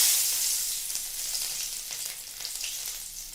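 Garlic hits hot mustard oil in a pan and fries with a loud, steady sizzle that eases slightly over a few seconds, with no voices.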